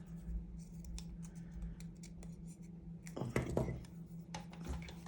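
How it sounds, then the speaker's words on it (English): Scissors snip through paper for a scrapbook layout, giving a series of short, crisp cuts close by, followed by a denser burst of rustling and handling of the paper. "I'm going to actually cut this off and kind of layer that"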